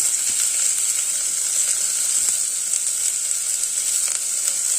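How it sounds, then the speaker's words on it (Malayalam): Onion sizzling in coconut oil heated well in a pan, a steady bright hiss holding evenly throughout with faint scattered pops and no talking. "നന്നായിട്ട് ചൂടായിട്ടുണ്ട് എണ്ണ നമുക്ക് ഉള്ളി അതിലേക്ക് ഇട്ട് കൊടുക്കണം"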